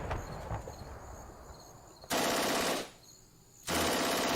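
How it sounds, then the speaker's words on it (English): Anti-tank guns firing in a World War II strategy war game set in France 1940, two loud sustained bursts of gunfire separated by a quieter lull, close and harsh. "German anti-tank guns firing at the Matildas."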